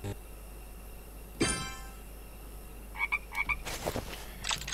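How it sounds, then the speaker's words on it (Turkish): Frog croaking in the video game Safe Haven, several short croaks in a quick cluster over a quiet game background, one louder burst before them. "Ribbit diye kurbağa sesi geldi."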